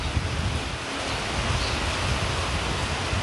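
Heavy rain pours steadily in Haldwani, a dense, loud, unbroken hiss of falling water with no breaks.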